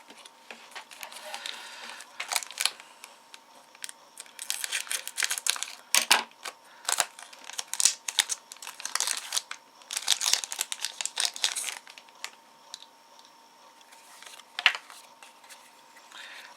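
Pokémon trading cards from an XY8 Red Flash display are shuffled by hand, giving a run of crisp riffling and crinkling bursts of card stock, loud and close, with brief pauses between flurries and no talking.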